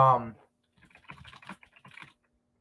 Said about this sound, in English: yeah, I'm casually just typing away out of nowhere.